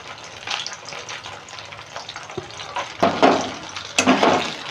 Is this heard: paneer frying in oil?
yes